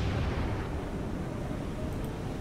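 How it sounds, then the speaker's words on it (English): Warship guns fire star shell in the naval video game War on the Sea, a continuous heavy low rumble of booming blasts that stays loud and dense throughout without any talk. "All right, let's fire Starshell."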